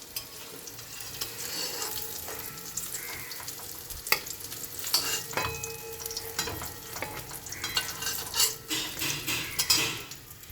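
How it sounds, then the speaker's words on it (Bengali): Eggplant frying in hot oil for a Bengali eggplant and hilsa curry, a steady close sizzle with scraping stirs and the clink of a utensil against the pan, growing busier toward the end. "আমি বেগুনটাকে লাল লাল করে ভেজে নেবো"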